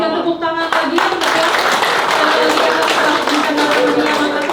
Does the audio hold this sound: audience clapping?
yes